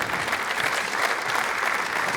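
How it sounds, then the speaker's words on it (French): Sustained audience applause at a French sport and business gathering, dense steady clapping from a large crowd filling the room, continuous and fairly loud with no voices standing out. "vous pouvez continuer vos applaudissements"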